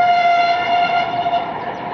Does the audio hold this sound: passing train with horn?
yes